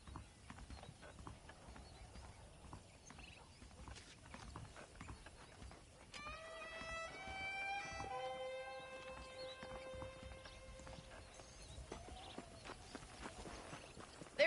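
Horse hooves clip-clopping at a walk in the Red Dead Redemption video game, a steady near rhythm of hoof strikes with a brief whinny in the middle.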